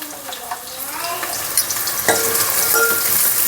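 Chopped onions fry in hot oil in a pan for a chicken curry, giving a steady loud sizzle with stirring scrapes throughout, close to the listener.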